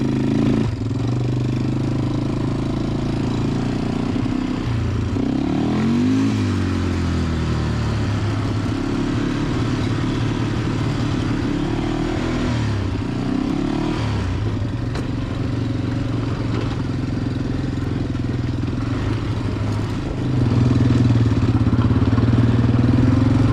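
A Yamaha Warrior 350 ATV engine idles with a low throbbing rumble, revving up and dropping back in several swells, then climbing to a louder sustained roar near the end, close and without talking.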